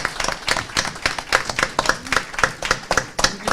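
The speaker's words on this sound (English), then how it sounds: "if everyone will please join me in a round of applause for Ms. Temple's service." A room of board members and attendees at a school district regular board meeting claps together in a round of applause, loud, close and sustained with uneven bursts of individual hand claps throughout.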